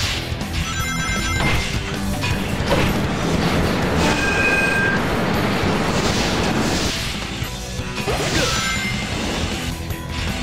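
A train in the Sonic Heroes video game rumbles and clatters loudly and continuously, with metallic crashes, ringing bell-like tones and game effects layered over it.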